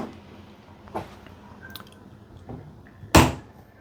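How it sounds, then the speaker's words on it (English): A single loud cruise ship cabin door slam, pulled shut by a magnetic holder, sharp and close, after a few quieter clicks and rustles in an otherwise quiet room. "This is the ship where the doors slam regardless because of that magnetic holder thing there."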